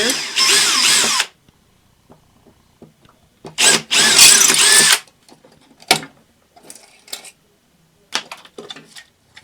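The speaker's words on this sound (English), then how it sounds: "We'll go ahead and drill out this corroded terminals here too" Short loud bursts of a power drill drilling out corroded battery terminals in an old Tomy game, separated by quiet gaps filled with faint clicks and scraping from handling.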